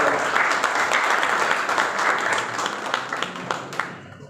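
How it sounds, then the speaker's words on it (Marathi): An audience applauds a student merit award at a school anniversary ceremony, with steady, dense clapping that fills the hall and slowly fades toward the end. "टाळ्या वाजवा."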